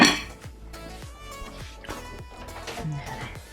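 A baking dish is set into a kitchen oven during the making of Swedish meatballs, heard as a series of close clinks and knocks of cookware against metal racks over a faint tonal background.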